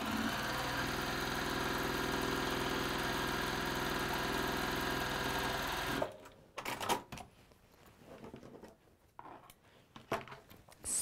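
Sewing machine stitching at high speed, a steady dense whirring drone for about six seconds that then stops, followed by quieter scattered handling noises and clicks.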